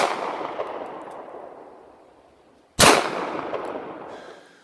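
A single loud, sharp gunshot from a Taurus Millennium G2 9mm pistol cracks out close by, then rings and decays, following the fading tail of an earlier shot.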